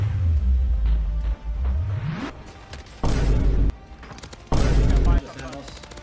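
Gunfire in Call of Duty Warzone: short loud bursts of rapid shots in quick succession, mixed with whooshing movement sounds over a rumbling game backdrop, with a voice talking underneath.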